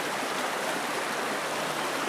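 A river rushing close by a narrow riverside path on a misty December day, its steady broadband gush filling the scene without pause, loud and near, with no talking.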